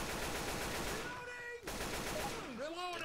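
Rapid automatic gunfire from the zombie shooter Left 4 Dead, a steady dense rattle of shots with game sounds and voices mixed in.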